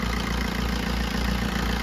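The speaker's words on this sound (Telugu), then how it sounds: "ఇంజన్ బీటింగ్ చాలా బ్యూటిఫుల్ ఇంజన్ బీటింగ్ ఇది" A car engine idles steadily and close by, a continuous even rumble with a faint rhythmic beat and no voices over it. The car has covered about two lakh kilometres.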